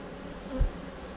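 Honey bees crowd a hive's slatted rack in hot weather, giving off a faint, steady low hum with a single soft thump near the middle of the short stretch.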